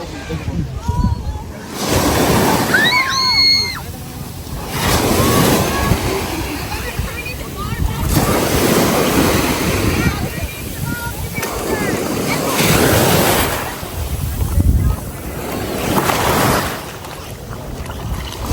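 Ocean waves wash ashore on a beach at First Landing State Park, surging in repeated swells with steady wind noise on the microphone, while people talk over them.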